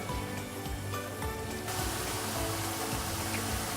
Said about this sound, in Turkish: Şimdi soğanlarımızı kavuruyorum.